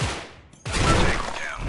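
M16A3 rifle fired in the video game Special Force 2: a brief quiet gap, then a loud, dense burst of rapid automatic shots that runs to the end, with no talking.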